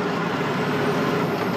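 A Kenworth truck's engine brake rumbles steadily and loudly throughout on a rural secondary highway in Quebec, a continuous dense drone with no breaks.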